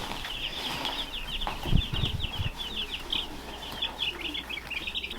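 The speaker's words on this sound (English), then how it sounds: "let's do a quick check-in on how our meat birds are doing" Five-day-old meat bird chicks on a homestead chirp constantly in a dense, high twittering chorus, with brief low rustling and thumps of handling nearby.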